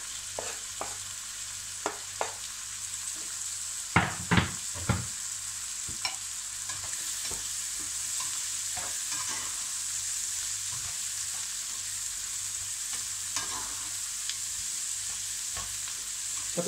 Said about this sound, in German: Dann gebe ich schon mal etwas von den Zucchini dabei. Damit das etwas anrösten kann.